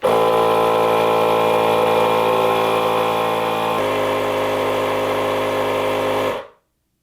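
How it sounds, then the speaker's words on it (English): A Milwaukee battery-powered tire inflator pumping up a bike tire to 31 PSI, a loud, steady motor buzz that holds constant for about six seconds, then cuts off abruptly into silence. "And then I hit go and it's gonna inflate until it hits 31 PSI, my target PSI."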